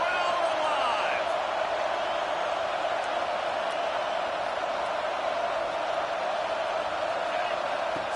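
Steady roar of a stadium crowd in a college football video game, Georgia Bulldogs against LSU, swelling on a third-down red zone play; dense, continuous and loud, with faint whoops and game commentary layered over it.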